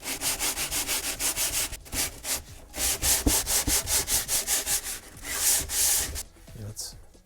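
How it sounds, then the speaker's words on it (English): Rhythmic back-and-forth scraping of a large sanding block on a Boba Fett jet pack prop, about two strokes per second, close and steady, pausing briefly near the end. "I like using a large sanding block"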